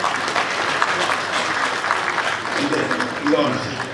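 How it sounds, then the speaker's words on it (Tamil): Steady, dense applause from an audience at a film trailer and audio launch event, greeting director Andrew Pandian, sustained and fairly loud throughout. "அவருக்கு நீங்க பெரிய கைதட்டல் கொடுக்கலாம்."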